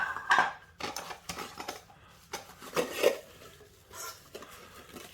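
Camping cookware set of pots, a frying spatula and a lid being handled, giving a string of light metallic clinks, scrapes and knocks at irregular intervals, close up with no talking.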